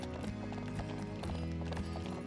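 Horse hooves clip-clop in a steady, fast trot in the ranch video game The Ranch of Rivershine. The hoofbeats stay close and even throughout, over a constant bed of game sound.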